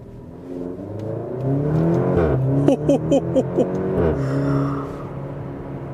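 A 2023 Maserati Grecale Modena SUV accelerating in manual mode, heard from inside the cabin as the engine climbs in pitch through several quick gear shifts with clear rhythmic stutters, then settles into a steady hum.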